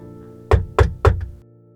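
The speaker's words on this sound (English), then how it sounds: "A knocking at the door startled Octavia from her relaxation." Three firm knocks on a door sound in an even, quick rhythm, close and loud, followed by a softer fourth tap, with no voices present.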